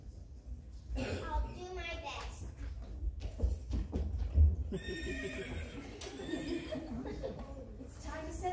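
A horse whinnies loudly over a steady clip-clop of hooves, with a second neigh following; the animal sounds close, and voices talk quietly in the background.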